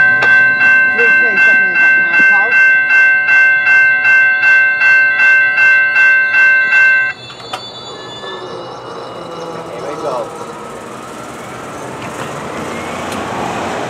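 A railway level crossing bell rings in a fast, steady, loud clang for several seconds, then stops abruptly, leaving a quieter rumble of rail traffic and background noise.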